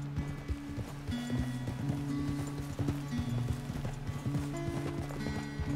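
Steady, rapid hoofbeats of a galloping horse in Red Dead Redemption 2 clatter in a continuous rhythm, with a low droning tone underneath and no speech.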